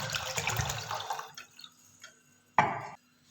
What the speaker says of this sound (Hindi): सबसे पहले पैन में पानी डालेंगे, ये 1 लीटर पानी है।